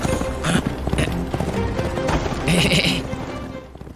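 Hooves clip-clop from a horse pulling a carriage, a rhythmic clatter mixed with creaks and rattling, with brief higher bleating or whinny-like sounds over a dense, moderately loud background.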